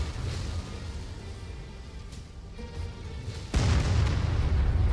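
Artillery explosions in the video game MechWarrior 5 rumble as a dense, heavy roar, ending with a sudden, louder booming blast that swells and sustains near the end, with no talk.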